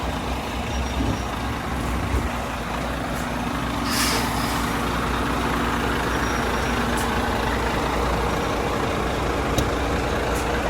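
Semi-trailer truck reversing inch by inch, its engine idling in a steady low rumble with faint intermittent hiss and ticks, close and continuous.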